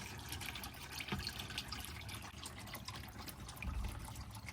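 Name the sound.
motor oil draining from Chevy Suburban 5.3L oil pan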